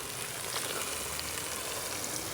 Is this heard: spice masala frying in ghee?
yes